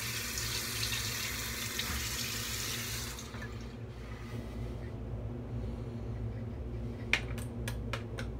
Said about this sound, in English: I need to add some water to this lather.